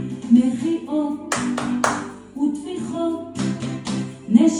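Hand clapping in a few sharp, spaced bursts over a sung melody, claps loud and close amid the music.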